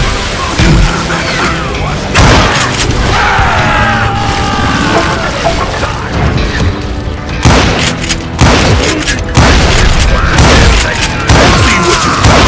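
Gunfire in the video game Call of Juarez Gunslinger, loud repeated booming shots and crashing bursts in dense, irregular volleys, with reverberant mechanical clatter between them.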